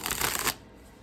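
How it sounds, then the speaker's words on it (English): A tarot card deck being shuffled by hand, a dense riffling burst for about half a second, then quiet. "I think I just can't shuffle."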